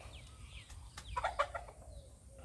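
A fighting rooster in training clucks a few short, soft notes close by, with faint rustling and low background noise around it.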